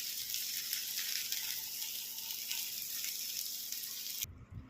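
A thalipeeth roasting on a tawa with a little oil gives a steady, fairly faint hiss and sizzle that runs for a few seconds before cutting off abruptly.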